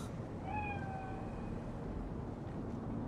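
Ghost cat in the Cyberpunk 2077 video game gives a single drawn-out meow, clear but fairly soft, over a steady low background hum.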